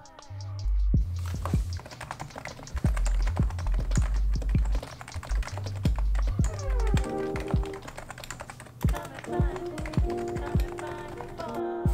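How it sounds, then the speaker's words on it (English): A Leopold F660C mechanical keyboard clacks steadily under quick typing, crisp close keystrokes with deeper thocks from larger keys, over a soft background music bed. "I picked up the F660C from Leopold. It's minimal in design, but doesn't sacrifice functionality, and it still has those dedicated arrow keys."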